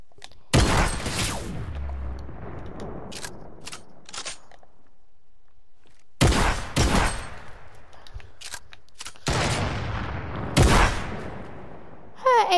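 Video game shotgun fire: sharp, loud blasts close up, each trailing into a ringing decay, heard in separated bursts of several quick shots with short quiet gaps between.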